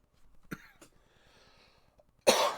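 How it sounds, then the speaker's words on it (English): A single sharp cough, close and fairly loud, near the end after a quiet stretch of faint vocal sounds, with a small throat noise just before it. "Did not mean to cough"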